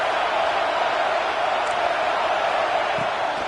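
Steady roar of a large football stadium crowd at a Nebraska at Michigan college game, a dense continuous wash of noise heard from a distance with no distinct cheers standing out.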